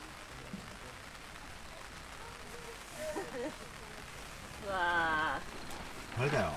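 Rain patters steadily at a lakeside auto campground on Lake Biwa, a soft continuous hiss throughout, while people talk nearby in short bursts over it.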